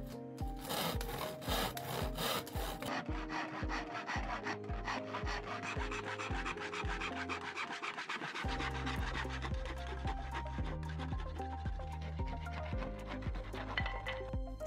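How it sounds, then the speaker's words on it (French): A hand wood saw cuts through a wooden batten being prepared for window security, with steady back-and-forth rasping strokes. The strokes run fast at first, then turn slower and heavier, loud and close throughout, with no talking. "Équipez-vous de votre scie à bois et c'est parti!"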